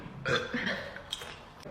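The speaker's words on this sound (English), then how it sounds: "I literally burped like I let out burps like that" A girl who has been drinking champagne lets out one fairly loud, throaty burp lasting under a second, followed by a short trailing tail, alone with no talk.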